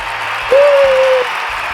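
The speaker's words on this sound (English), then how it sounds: "give a big round of applause to Dr. Jen Martin." Audience applause welcoming a guest at a National Science Week science quiz: brief, steady clapping from a crowd, with a short whistle-like tone rising over it midway.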